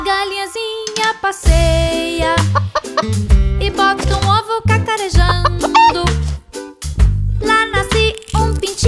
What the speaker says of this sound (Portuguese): A galinhazinha passeia e bota ovos cacarejando.